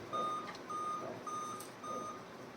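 A faint series of evenly spaced electronic beeps from a Dell Inspiron N5010 laptop with no display, eight beeps repeating in a steady rhythm over a low background hum.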